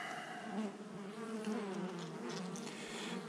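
Honeybees buzz steadily and densely around an open hive during an inspection, a close, continuous swarm drone with no talking.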